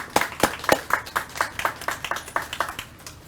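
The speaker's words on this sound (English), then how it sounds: "Give them another round of applause, please." Sparse clapping from a small group, about a dozen distinct claps in a loose, uneven rhythm, a round of applause for Senator Chris Coons, close and fairly quiet with no talk over it.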